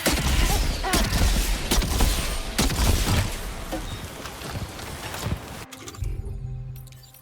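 Heavy gunfire in the Death Stranding 2 video game: dense, loud bursts of shots and booms in rapid succession for several seconds, then cutting off abruptly to a quieter low hum.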